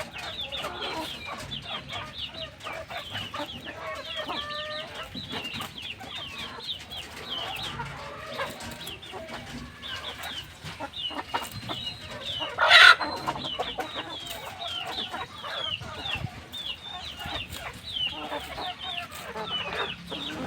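A flock of multicoloured desi country chickens in a Konkan backyard clucks steadily and close by, with a single rooster crow rising sharply above the chatter midway through.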